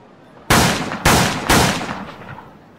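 Three loud, close gunshots from a handgun, fired in a quick uneven series with sharp attacks and short decaying tails between them.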